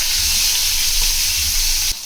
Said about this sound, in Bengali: বেগুনগুলো সব আগে ভেজে নেবো একটা একটা করে।